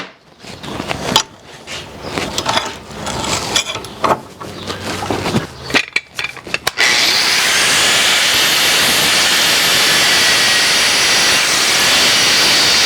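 A 4.5 inch angle grinder with a 40 or 60 grit wheel grinding down a weld on a horseshoe tool holder. Irregular scraping and clattering come first, then a loud, steady, close grinding roar takes over.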